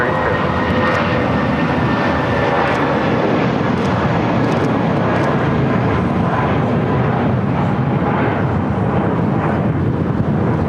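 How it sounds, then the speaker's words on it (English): A JetBlue Airbus A320 in NYPD livery takes off at LAX, bound for Salt Lake City, with a loud, steady jet engine roar that fills the whole stretch without letup. "taking off to Salt Lake City on an A320 in the NYPD livery"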